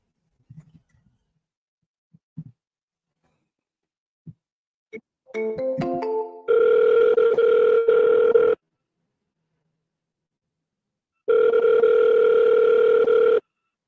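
Outgoing phone call: a few faint clicks and keypad dialing tones, then two long loud ringback tones separated by a silent gap.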